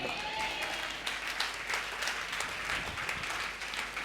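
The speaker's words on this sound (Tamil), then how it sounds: "கைத்தட்டுங்க." Applause from a church congregation at a Sunday service, a steady wash of many hands clapping that stays even and moderately loud throughout, with no speech over it.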